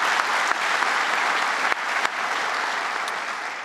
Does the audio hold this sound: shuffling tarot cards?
no